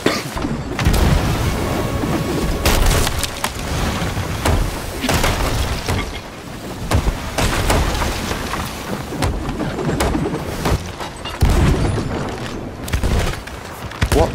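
Cannon broadside fire between ships at sea in the Sea of Thieves video game, a dense run of loud booming blasts and crashing impacts repeating throughout with no pause.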